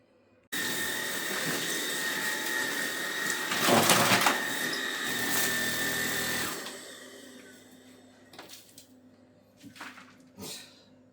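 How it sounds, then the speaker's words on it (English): A vacuum cleaner switches on abruptly and runs with a steady whining drone for several seconds during floor installation work in a house renovation, then cuts off, leaving scattered knocks and clatter. "I hate this vacuum so much."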